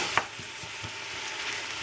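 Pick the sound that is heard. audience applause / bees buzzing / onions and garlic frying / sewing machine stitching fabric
onions and garlic frying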